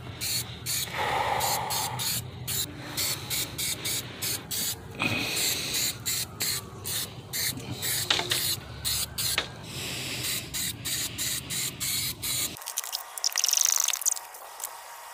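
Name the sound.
spraying a coating onto stock car wheels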